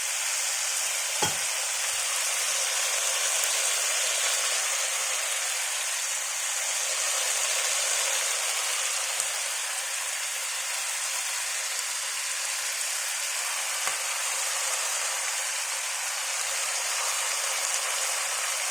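Capsicums and pork fillet stir frying in a pan, a steady loud sizzle with occasional clicks of a utensil against the pan, no talking.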